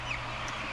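Chicken clucking close by in a concrete-floored brooder house, a brief soft cluck or two over a steady low hum, no talking.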